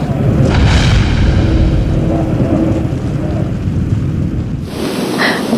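The Space Shuttle Challenger's solid rocket boosters, destroyed by remote command after the 1986 breakup, sound as a loud, rumbling boom that rolls on for several seconds and tails off into a distant, thundery roar.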